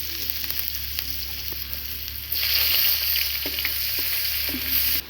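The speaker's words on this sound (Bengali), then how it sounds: "দিয়ে দিচ্ছি আমরা পেঁয়াজ কুচি ঘুগনির জন্য।" Chopped onion is added to hot oil in a pan while ghugni is cooked, and a steady close sizzle rises sharply partway through, with a few faint clinks of utensils.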